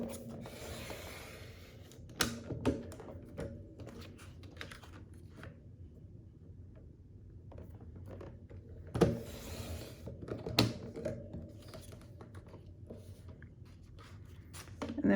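Scrapbook paper being trimmed on a paper cutter, heard as scattered sharp clicks and snaps of the blade with faint sliding rubs between them, quiet and close.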